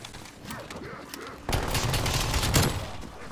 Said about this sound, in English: I made a sentry turret